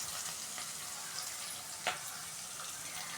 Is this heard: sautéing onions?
yes